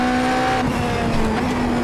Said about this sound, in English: A couple of little lockups now